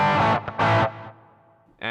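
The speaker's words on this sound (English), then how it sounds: "I'm gonna leave the echo effect on there because I did not mind that" Electric guitar played through a Zoom GFX 707 multi-effects unit with the echo effect on: two loud, distorted chord hits, each trailing into a fading echo tail, then a new strike at the end.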